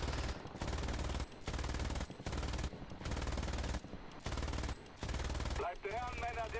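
Rapid aircraft machine gun fire in the War Thunder flight game, German Luftwaffe fighter, loud sustained bursts broken by brief pauses, with a rising engine-like tone near the end.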